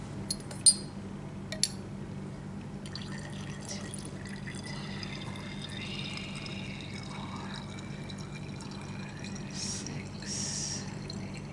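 Liquid pipetted into glassware gives a couple of sharp glass clinks early on, then faint drips and trickles over a quiet low hum.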